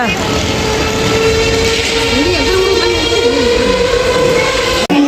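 A train passes close by with a loud, continuous rumble and clatter that holds steady for several seconds and cuts off abruptly near the end.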